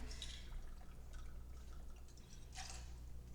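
Gin is poured for a cocktail, with a faint, quiet trickle of liquid and a few soft splashy bursts near the start and end over a low background hum.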